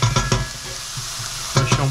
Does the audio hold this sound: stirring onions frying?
yes